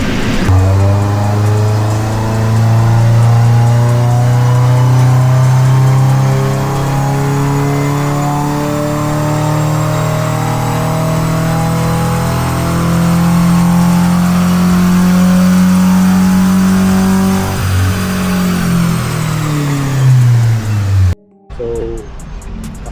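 A naturally aspirated Subaru XV with the FB20 engine is revved on a dyno, climbing in a long, loud, sustained pull close by before it cuts off abruptly near the end.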